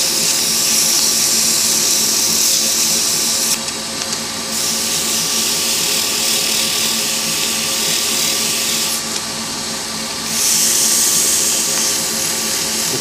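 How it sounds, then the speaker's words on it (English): Pen blanks being sanded with 240 grit sandpaper on a spinning lathe, a steady loud hiss and whir with the higher scratchy band cutting out briefly twice as the paper lifts away. "It's good practice to constantly change sandpaper, because sandpaper actually wears away pretty quickly"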